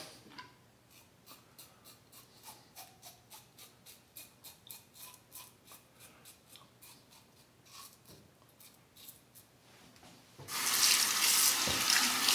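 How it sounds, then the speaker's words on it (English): Bathroom tap runs while a razor is rinsed during a wet shave with a Merkur 47C, faint trickling with short repeated splashes, then a loud, close full stream of water near the end. "Quick face rinse."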